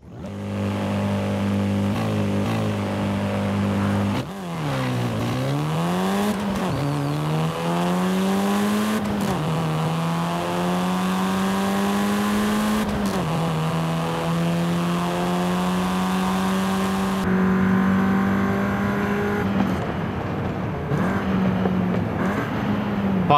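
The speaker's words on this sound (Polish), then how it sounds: "jestem ciekawy dźwięku, bo Golfy potrafią naprawdę ładnie brzmieć" Volkswagen Golf with a petrol engine in the racing game Forza Horizon 5, loud and close, revving up and down through repeated rising pitch sweeps and gear changes, with no talk over it.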